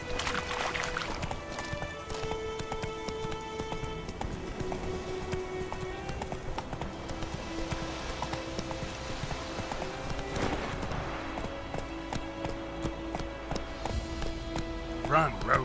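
Geralt's horse Roach gallops in The Witcher 3: Wild Hunt, steady rapid hoofbeats close by, running throughout under game music and a voice.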